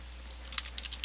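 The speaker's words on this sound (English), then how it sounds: "This is a lot of typing, but I like it." Computer keyboard typing in short, uneven bursts of clicky keystrokes, fairly faint over a steady low hum, with a quiet pause before the tapping begins.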